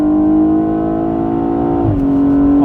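A 2020 BMW 840i xDrive Gran Coupe with M Sport package in Sport Plus mode, engine holding a loud, steady drone from inside the cabin, dropping in pitch near the end as the eight-speed automatic shifts.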